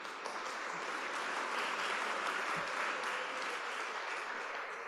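Audience applause at an education conclave, a broad, even wash of many hands clapping at a distance, steady throughout with no voices on top.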